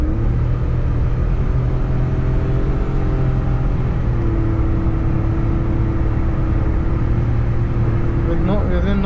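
A Paro 660cc car converted to a CVT accelerates uphill with a steady droning engine hum that holds a fairly even pitch and then rises near the end, heard from inside the cabin while someone talks over it.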